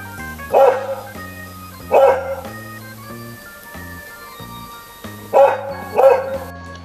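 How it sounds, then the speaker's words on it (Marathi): A dog barks in four separate bursts, paired with pauses, over a steady background of soft tonal music. "हा आहे डॉग"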